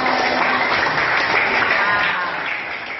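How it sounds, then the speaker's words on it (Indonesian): Dense, steady applause from a classroom audience for a student group after its presentation, loud and continuous for about three seconds before easing slightly at the end. "tepuk tangan buat kelompoknya"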